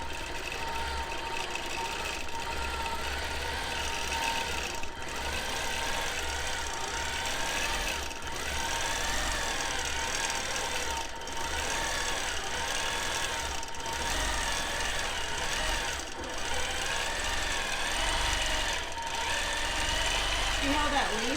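A Gammill Classic Plus longarm quilting machine runs steadily through free motion stitching, a continuous mechanical hum with rapid needle rhythm, close and loud throughout with no talking.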